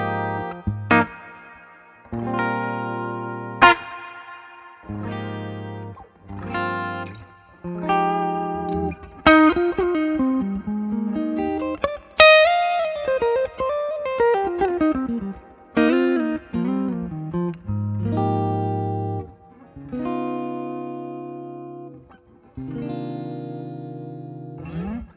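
An electric guitar runs through a Two Rock Bloomfield amp plugin with reverb, playing clean, ringing chords and melodic runs with a chorus-like shimmer and reverb tails for about twenty-five seconds, with no talk.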